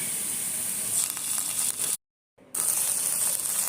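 Grated ginger hits hot oil with browned chopped onion and sizzles in a steady, hissing fry that cuts out to silence briefly before resuming.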